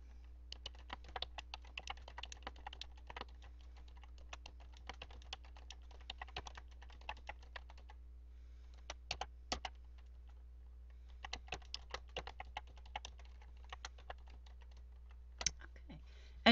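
Computer keyboard typing in quick, light clusters of keystrokes, separated by short pauses, close by and fairly soft over a low steady hum.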